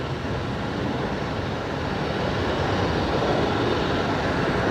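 An Atlas Air Boeing 747 on short final approach into Brisbane Airport, a loud, dense, unbroken engine roar filling the whole few seconds at close range, with no voices.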